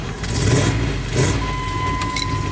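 A 1997 MK3 Jetta engine struggles to start in the cold, the starter cranking in two surging bursts with a rough mechanical drone and a faint steady whine, near and loud.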